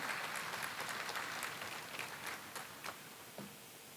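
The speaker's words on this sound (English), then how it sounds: "Please give yourself a round of applause." Audience applause at a university matriculation and welcome ceremony, a steady wash of many hands clapping at moderate distance that gradually thins and fades toward the end.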